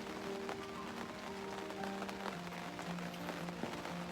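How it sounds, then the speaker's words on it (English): Rain falls steadily on a deer blind, a soft continuous patter with scattered sharper drops, faint and alone with no talk, under a low hum. "you can hear it is still raining pretty good, but it's not pouring like it was a while ago"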